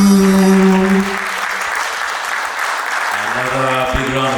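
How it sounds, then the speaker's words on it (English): Audience applause breaks out after a song at a Malawi anniversary celebration, dense clapping that fills the clip loud and steady, with singing tones fading under it at the start and voices rising over it near the end. "Another big round of applause, ladies and gentlemen."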